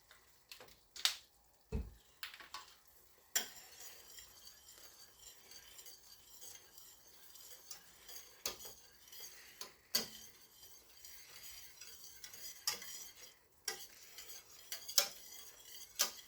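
A spoon stirring Worcester sauce into flour-thickened gravy for smothered turkey wings, quiet scraping punctuated by irregular sharp taps and clinks against the pot, close by.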